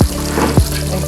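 Onions fry in hot oil in a wok, a loud, close, steady sizzle with two sharp bursts of crackling as ingredients hit or are stirred in the pan.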